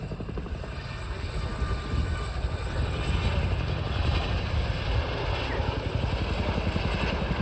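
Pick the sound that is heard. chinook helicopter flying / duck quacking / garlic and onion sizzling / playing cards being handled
chinook helicopter flying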